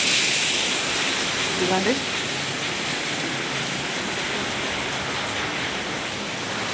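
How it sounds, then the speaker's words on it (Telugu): Rainwater leaks through a house roof during heavy rain, making a steady, dense hiss of pouring and dripping water throughout. A voice speaks briefly near the start. "అదిగండి అలా కారిపోతుందండి ఇల్లు. ఇల్లు మటుకు బాగా కారిపోతుంది."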